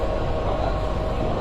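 Palm Jumeirah monorail train in Dubai, a steady close rumble and hum of the running car with a faint whine, no voices heard.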